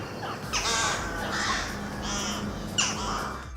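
Several urban crows caw in a city street setting, harsh repeated calls in uneven bursts, fairly close and loud over a steady low traffic rumble.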